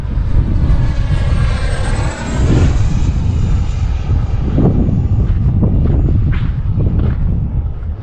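Radio-controlled E-Flite F-16 model jet flying overhead in gusty wind, its steady loud electric ducted-fan whine sweeping past with a brief dip before surging back, wind buffeting the microphone throughout.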